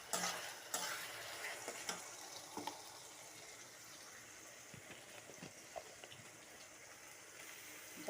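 Garlic frying in a pan while being stirred, a soft continuous sizzle with scattered scraping and clicking stir sounds, faint and close with no talking.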